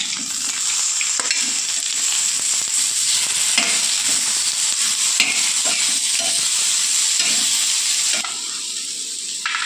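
Onion and tomatoes fry in a pan under a loud, continuous sizzle, with repeated scraping strokes of a spoon stirring them, close up and steady until the hiss eases slightly at the end.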